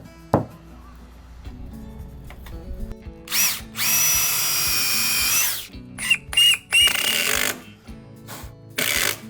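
A power drill drives screws into wooden deck boards, with short bursts of loud whirring separated by quieter pauses and handling clatter.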